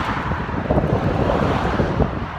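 Steady roar of wind buffeting the microphone while cycling between Ilfracombe and Barnstaple in Devon, with a low rumble of passing road traffic, loud and continuous throughout.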